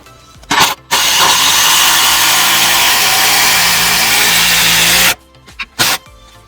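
A Dewalt compact impact driver sinks a 6-inch screw in one long, loud, rattling hammering burst lasting several seconds, framed by short bursts before and after.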